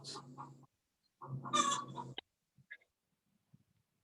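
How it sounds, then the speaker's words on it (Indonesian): A chicken clucks nearby in a quiet room, a couple of short bursts of clucking followed by faint scattered sounds and silence. "Bu, ada ayam. Ayam siapakah itu?"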